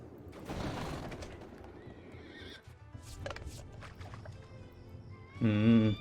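Horses in the video game Battle Realms, a loud whinny and clip-clop of galloping hooves amid game effects, closing with a sharp, close neigh.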